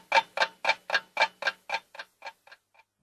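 Big clock ticking in a steady, even rhythm, about a dozen sharp ticks roughly a quarter second apart that fade gradually toward the end, heard alone and close.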